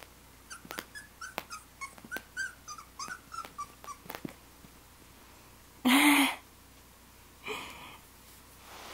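Small Pocket Beagle puppies yip and whimper in quick playful bursts for several seconds, followed by a sharp louder squeal and a softer rustle.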